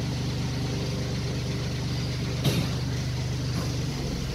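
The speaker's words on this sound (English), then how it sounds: "In this little demonstration, we're going to leave Bobcat at an idle." A Bobcat skid steer engine idling steadily nearby, a low even diesel hum with one brief clunk partway through.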